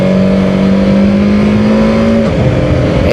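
BMW F450 GS adventure motorcycle engine braking after a downshift, a loud steady close engine drone that drops in pitch partway through, with no talk.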